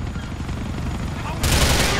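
Heavy gunfire in GTA The Lost and Damned, a continuous loud barrage of automatic shots that swells sharply about halfway through, with talk mixed in.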